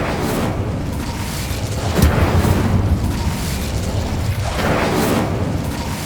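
A Confringo explosive spell in Hogwarts Legacy going off as a heavy, rumbling blast within continuous loud game noise, with a low boom swelling around the middle and again near the end.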